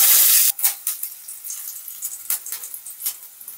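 Four garlic cloves and one dried red chili hitting hot oil: a loud hiss at first, then settling into close, crackling, popping sizzles, with no voices.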